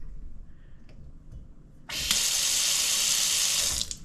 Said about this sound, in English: Obviously I didn't turn off the water.